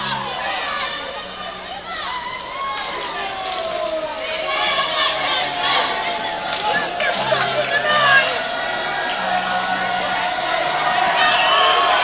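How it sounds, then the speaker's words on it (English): Loud, hostile crowd packing a gym at a boys varsity basketball game in double overtime, steady chatter and cheering with rising whoops, commentators talking over it. "It's a hostile crowd down here."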